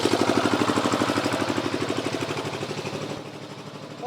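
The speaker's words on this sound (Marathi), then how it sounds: "थोडंसं जनरेटर आहे, पुढं जाऊया." Generator engine running steadily at a busy South Indian market near Kanyakumari, a loud, even mechanical drone with rapid pulsing that fades slightly toward the end.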